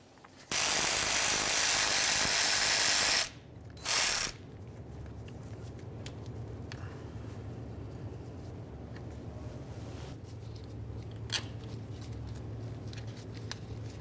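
A ratchet working a 10mm nut loose from the starter bracket of a 2010-2013 Ford Transit Connect, a loud close burst of rapid ratcheting followed by a shorter second burst, then quiet workshop clicks and faint handling noise.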